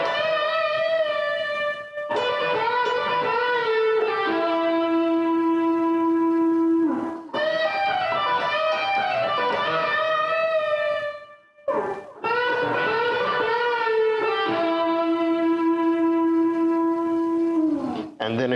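An electric guitar plays a solo, with sustained, bending lead notes in phrases separated by short gaps, loud and alone.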